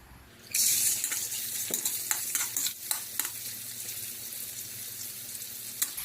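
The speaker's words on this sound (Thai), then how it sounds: "ตั้งกระทะใส่น้ำมันนะคะ เดี๋ยวเราจะผัดกุ้งก่อนนะคะ" Oil sizzling and crackling in a hot pan as shrimp is stir-fried for shrimp fried rice, with scraping clatters near the start, steady and close.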